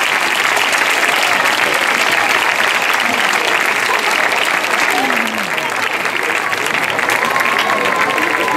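A theatre audience at a variety show gives loud, continuous applause after a monologue, dense clapping holding steady throughout with faint voices underneath.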